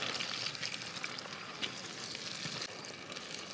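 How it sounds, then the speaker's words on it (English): Crayfish with smoked paprika and lemon juice being stirred in a pan, giving a steady, close frying sizzle with faint scraping and wet crackles throughout. "We'll just stir this up"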